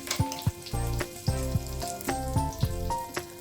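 Spices such as turmeric and asafoetida sizzle in hot oil with the stove off, a soft crackling fry with occasional scrapes and taps of a spoon stirring the pan, fairly quiet, while making mango pickle.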